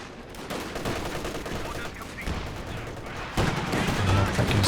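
Sustained machine-gun fire from several MG positions in a Company of Heroes 2 2v2 match, with dense rattling bursts and other gunfire throughout, growing louder near the end.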